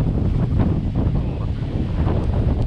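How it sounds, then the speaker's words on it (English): Gusty outdoor wind buffets the microphone beside a grill fire used to cook Jamaican jerk rabbit, a steady low rumble filling the whole stretch without pause. "the wind is making it hard to keep the fire low"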